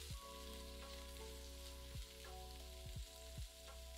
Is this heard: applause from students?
no